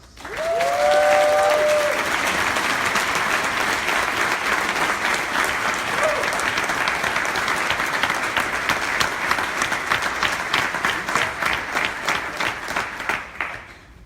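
Audience applause welcoming the 2018 Corps Member of the Year, loud sustained clapping from a large crowd that continues for the whole stretch, with a brief voice at the start.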